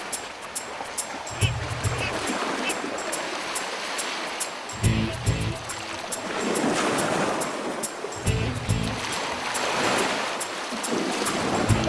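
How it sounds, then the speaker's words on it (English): Waves wash over rocks on a coral cay, a steady broadband surf with recurring surges and low thumps as water breaks and drains, close and fairly loud with wind noise on the microphone. "Crabs tenaciously cling to the rocks as the waves wash over."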